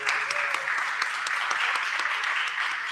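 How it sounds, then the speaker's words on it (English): Audience at a voting rights panel event applauding the panelists, a steady wash of clapping from many hands that holds at an even level for a few seconds, with no voices over it. "Can we give them a round of applause?"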